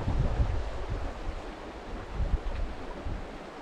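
A mountain river near hot springs in Taiwan rushes steadily, a broad continuous wash of flowing water with gusty wind buffeting the microphone, heard close and without talking.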